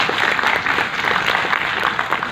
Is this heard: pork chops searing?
no